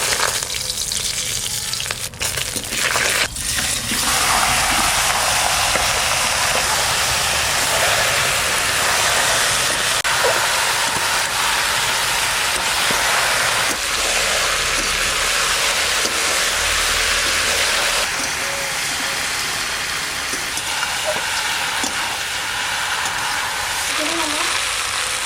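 Bay leaves, dried chillies and cumin fry in hot mustard oil in a pan for duck curry, giving a loud, steady sizzle that continues throughout with occasional stirring.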